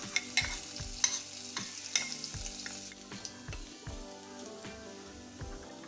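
Chopped ginger and green chili fry in oil with cumin seeds for a samosa filling, crackling with a fine, rain-like sizzle and sharp spoon-stirring clicks at irregular beats, fairly quiet and close.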